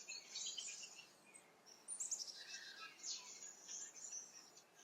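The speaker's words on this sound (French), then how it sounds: "je suis entourée d'oiseaux" Birds chirping and singing outdoors on a morning, several high tweets and trills coming in irregular bursts, fairly faint against a quiet background with no talking.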